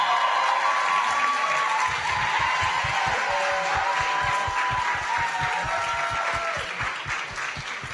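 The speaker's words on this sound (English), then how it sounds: "Please give her a round of applause." Audience at a live panel event applauding a comedian and author as she is introduced, steady sustained clapping from a sizable crowd over a faint background hum, tapering slightly toward the end.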